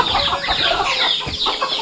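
A protective mother hen clucks agitatedly at close range on a forest farm in Sumatra, a quick run of sharp, repeated clucks with no talk.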